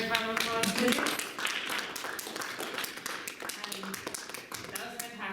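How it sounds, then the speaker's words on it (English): An audience at a book reading gives a round of clapping, scattered hand claps mixed with voices talking and laughing over them, moderately close and fairly light. "Can we do another round of applause, please?"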